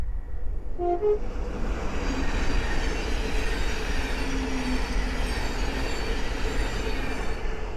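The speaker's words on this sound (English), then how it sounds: "the next train to pass by is a Thames Link 700 from Cambridge to London King's Cross" An electric train passes close by, a loud steady roar of wheels on rails with a brief high tone near the start, sustained to the end.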